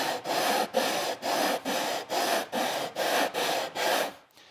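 A hand tool is drawn in long, even passes across the end of a wooden board to smooth away jigsaw blade marks, eight steady rasping strokes in a regular rhythm.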